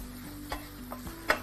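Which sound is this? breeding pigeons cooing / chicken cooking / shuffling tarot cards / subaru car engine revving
chicken cooking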